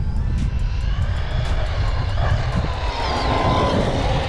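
An Arrma Kraton 4S V2 RC car makes a speed run, its electric motor whining loudly and continuously with steady wind noise throughout, no talk.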